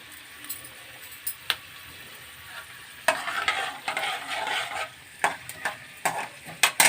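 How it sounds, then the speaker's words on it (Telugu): Peanuts frying in a pan, stirred with a utensil: sizzling under sharp scraping and clinking strokes that come sparse at first, then quicken into busy repeated stirring. "పల్లీలు వేగినాయండి"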